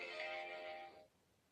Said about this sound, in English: Is there a sweeter sound than the eBay notification?